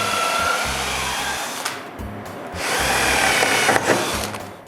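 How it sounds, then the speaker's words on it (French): Power drill boring pilot holes into a wooden interior door, a steady high whine in two long bursts with a brief pause between as the bit is pulled out to clear chips. "je perce des trous plus profonds puis plus petits que les vis que je vais utiliser"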